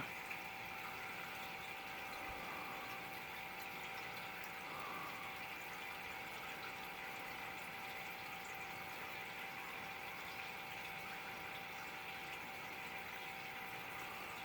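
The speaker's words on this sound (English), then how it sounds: "I'm going to turn the fountains off just because I'm tired of the noise." Indoor water fountains running in a laundry room, a steady, even trickling and pump hum that continues throughout at low level with no voices.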